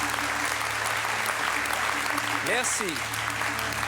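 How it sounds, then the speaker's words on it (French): A TV game show studio audience applauds in a steady, dense wash of clapping throughout, with a voice briefly speaking over it. "les gens applaudissent toujours les pompiers"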